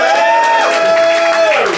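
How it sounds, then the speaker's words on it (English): Studio crowd at a comedy competition cheering loudly for a contestant, a brief dense burst of whoops and shouting voices close and full throughout. "Cheer for Sean Heggarty."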